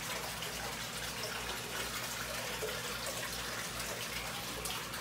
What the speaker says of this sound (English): This guy's leaking water.